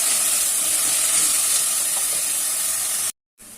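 Onion, garlic and chili sauté in about a quarter cup of oil with a steady, close hissing sizzle that cuts off abruptly near the end, then resumes faintly.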